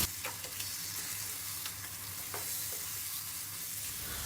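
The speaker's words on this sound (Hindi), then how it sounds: "मसाला को मिलाते हुए 30 सेकंड भून लेंगे।" Turmeric and Kashmiri red chilli powder roast in a pan for matar paneer, a soft continuous sizzle with faint stirring scrapes and occasional light clicks, close but quiet and without talk.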